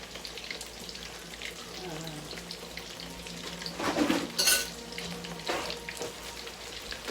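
Potatoes frying in a pan give a steady close sizzle, with a louder surge of stirring and scraping in the middle.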